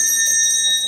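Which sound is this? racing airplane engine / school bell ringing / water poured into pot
school bell ringing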